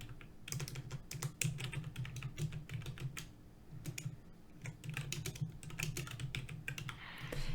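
Rapid typing on a computer keyboard sounds as a close, quiet clatter of key clicks in uneven bursts, with a faint low hum underneath and no talking.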